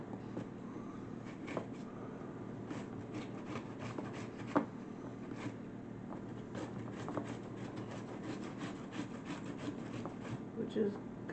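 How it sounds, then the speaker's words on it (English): An onion being grated by hand for potato kugel, a steady soft rasping scrape that runs continuously throughout, with a few sharper clicks. "And you start grating the onion."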